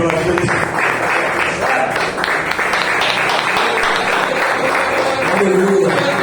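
A church congregation applauds the Lord during an evening Pentecostal-style service, steady dense clapping filling the room for several seconds, with voices and cheers mixed into the crowd noise.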